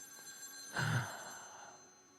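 Funeral home telephone in the video game The Medium, heard as a single faint ring that rises sharply and fades out slowly, with no voices.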